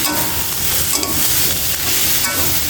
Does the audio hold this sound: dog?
no